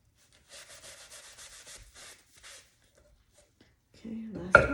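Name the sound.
sponge rubbing dry pottery bats clean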